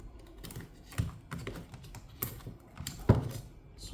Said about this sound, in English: the keyboard is actually sealed down as well, so we have to pop the keyboard out